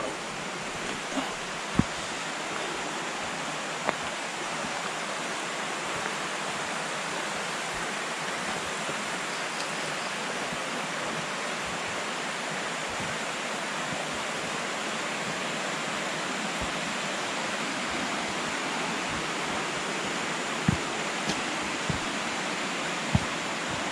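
Steady broadband rush of a river where two streams meet, continuous and close, with no talk and only a few faint clicks over the flowing water.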